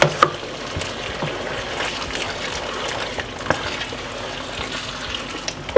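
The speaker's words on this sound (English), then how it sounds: "I'm gonna add some boiling water." Boiling water from a just-boiled kettle is poured into a pot of Jamaican brown stew chicken, a steady close splashing gush running throughout with no talking.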